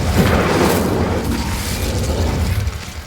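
The Incendio fire spell in Hogwarts Legacy lights a brazier. A loud whooshing burst of flame is followed by a rumbling crackle that slowly fades over about three seconds.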